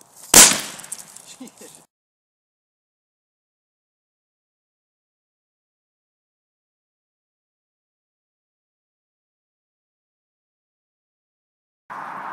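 A single loud bang from old fireworks with a brief crackling tail, followed by long silence and a faint hiss at the very end.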